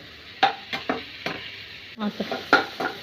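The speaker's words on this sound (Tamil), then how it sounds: "அந்த தக்காளி அந்த கொஞ்சம் லைட்டாக வதங்கினா போதும் வெங்காயமும் கொஞ்சம் வதங்கினா போதும்" Tomatoes and onions cook lightly in a pan for mint chicken chukka, with a soft sizzle under repeated scraping and clinking strokes of a spoon stirring, close by and in short bursts.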